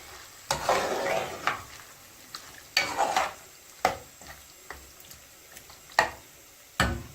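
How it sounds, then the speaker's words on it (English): Onions and chicken stirred in a sizzling pot for chicken akhni, with sharp scraping spoon strokes and bursts of frying noise spaced a second or so apart over a quiet, close background. "And give that a good stir, just so all the onions get coated."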